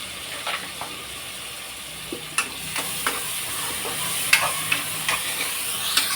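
Onions, green chilli, mint and ginger-garlic paste fry in a pan for egg biryani, a steady soft sizzle broken by scattered clicks and scrapes of stirring, with no voices.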